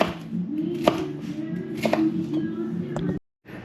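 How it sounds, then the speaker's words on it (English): Bell peppers are sliced into strips on a cutting board for fajitas. A knife thuds out a steady run of close cuts, some louder than others, before a brief silence and one last stroke. "so you go ahead and cut these peppers down."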